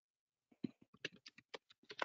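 Quiet, close keystrokes on a computer keyboard arrive in an irregular patter of short taps. Several clicks come in quick bursts and there is silence between them.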